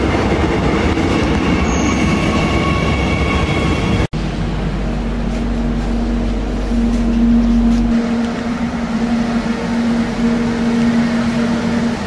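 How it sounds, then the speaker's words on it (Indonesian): An airport train rumbles loudly close by, its roar briefly cut, then a steady high whine of wheels as it rolls in and slows. "Ini kayaknya kereta gua nih pas nih"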